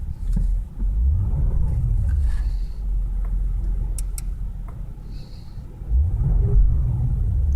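Steady low rumble of an Audi engine in comfort drive mode from inside the cabin, rising and falling smoothly as it revs, with a few faint clicks and no talking.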